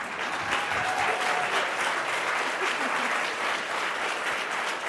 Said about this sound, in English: applause for the Ignoffo family